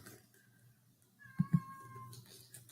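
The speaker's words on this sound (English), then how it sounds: "Pardon me if my cat is crying in the background." A cat cries in the background with drawn-out, tonal meows, faint and somewhat distant, in a quiet room at night, with a couple of soft thumps in between.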